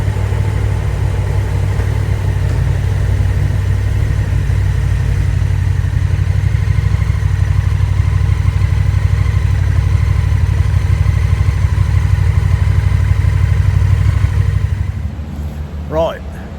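Traffic idling at a standstill inside a road tunnel in Switzerland, a steady loud low engine rumble with a constant droning hum that eases slightly near the end.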